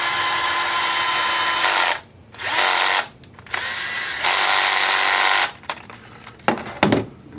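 Power drill driving a bolt during furniture assembly: loud whirring bursts of several seconds each, with brief pauses and a few clunks at the end.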